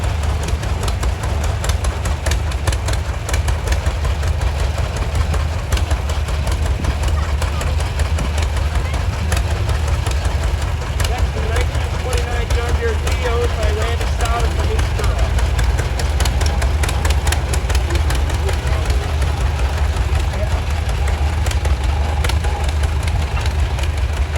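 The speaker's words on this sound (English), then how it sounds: "We have a 1976 International 1066, owned by Enos Weaver from New Holland." A 1976 International 1066 tractor rolls in a farm days parade, its diesel engine giving a loud, steady low rumble that continues unbroken for the whole stretch, with outdoor crowd noise in the background.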